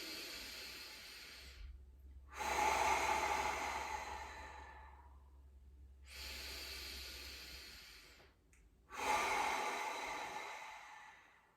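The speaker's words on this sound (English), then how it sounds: "then go back into some breathing" Slow deep breathing during a warm-up exercise, three long airy exhales through the mouth separated by quiet pauses, close and alone.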